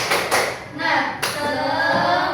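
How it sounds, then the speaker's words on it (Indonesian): A class claps together in a rhythmic spirit-clap pattern, a few sharp group claps and thumps in quick succession indoors, with brief voices between them. "Oke, 1, 2, 3, tepuk semangat"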